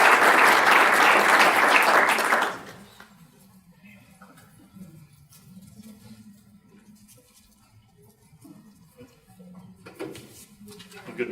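Audience applause welcoming speakers to a stage at an event, a loud full burst of clapping for about two seconds that fades to quiet room noise before speech.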